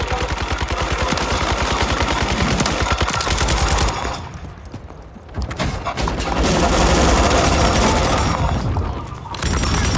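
Loud, sustained automatic gunfire in a Call of Duty video game, rapid bursts filling most of the stretch with a short lull in the middle, then heavy shooting resuming, up close with barely any voice.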